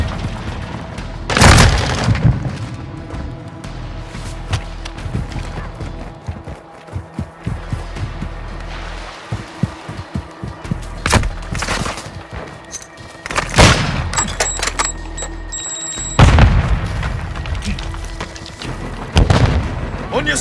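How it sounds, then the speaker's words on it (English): Stun grenade blasts and gunfire in Call of Duty Modern Warfare 2 multiplayer: several loud booming detonations spread across the stretch, with rattling gunshots and a busy game din between them. "Throw your stun grenade!"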